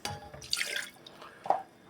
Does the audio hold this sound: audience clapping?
no